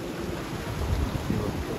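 Sea waves wash and splash along Anjuna Beach in Goa, a soft, steady rush of surf with gusty wind noise on the microphone, fairly faint and heard alone without talk.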